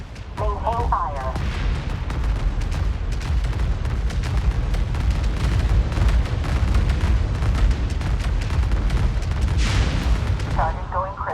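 A capital ship explodes under sustained battlecruiser fire in Homeworld 3, a loud continuous roar of booms and rapid blasts, with brief radio voice chatter at the start and near the end.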